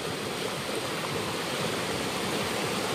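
A wide river flows past a footbridge at a nature resort, a dense, steady rushing wash of water that stays constant and fairly loud throughout, with no voices.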